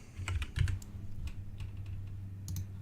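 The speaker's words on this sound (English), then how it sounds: "we're going to type in Amazon" Fingers type on a computer keyboard in a quiet room, with a quick run of soft, close key clicks and a few louder taps, no voices.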